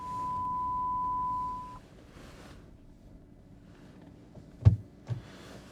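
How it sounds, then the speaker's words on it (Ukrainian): The parking sensor on a 2019 BYD Yuan EV535 electric car gives one steady, clear warning tone lasting under two seconds, followed by quiet with a couple of soft thumps. "авто побачив перешкоду, підсвітив зразу камерами та подає звуковий сигнал"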